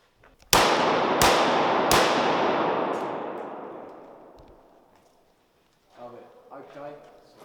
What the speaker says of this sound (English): Okay, hot weapon, firing now.